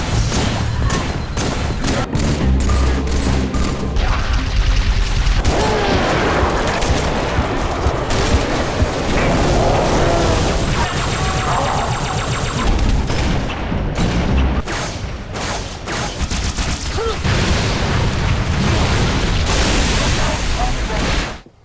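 Dense gunfire and explosions from Halo 3 rattle almost nonstop, rapid automatic bursts mixed with booming blasts, loud and close, with brief lulls.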